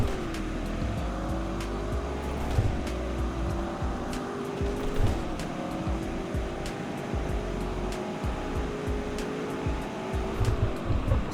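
A car in the Roblox Greenville driving game accelerates hard with a steady, loud engine whine climbing through repeated gear shifts, an all-wheel-drive model pulling continuously up to high speed with no talking over it.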